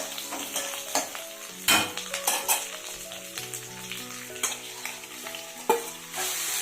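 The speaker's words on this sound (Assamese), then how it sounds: "আৰু অকণমান পিঁয়াজখিনি মই ভাজি লৈছোঁ" Onions, with a bay leaf, sizzle and fry in hot mustard oil in a wok while a spoon stirs and scrapes them. The frying is steady and close, with louder stirring clatters throughout and no talk.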